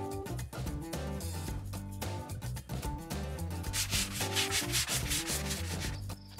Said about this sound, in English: Sanding the boat is a very good workout.